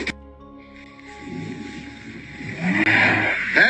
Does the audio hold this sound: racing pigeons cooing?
no